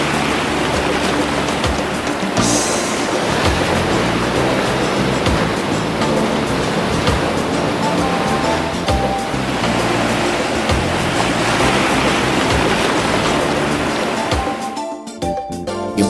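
Sea waves crash against rocky cliffs on the Mauritius coast, a loud continuous roar of surf and churning water that swells and recedes, dropping off abruptly near the end.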